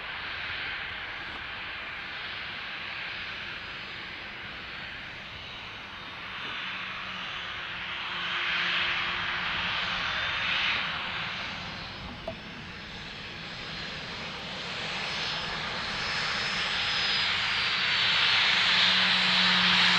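An airliner taxiing at Dublin Airport, its engines a quiet, distant whine and rumble that swells gently and fades, steady throughout with no voices.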